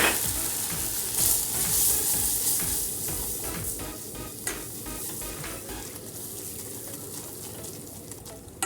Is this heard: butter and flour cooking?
yes